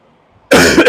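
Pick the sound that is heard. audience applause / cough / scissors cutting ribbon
cough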